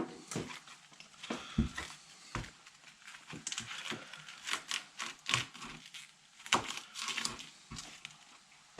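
A knife cuts the stems out of Savoy cabbage leaves in a cabin kitchen, giving a series of irregular crisp snaps and crunches with short quiet gaps, close and fairly soft, with no talking.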